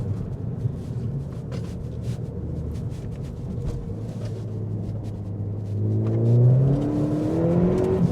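Ford Fiesta ST engine pulling hard while driving on budget front tyres, a steady mid-pitched rumble inside the cabin that rises in pitch and swells louder near the end as revs climb.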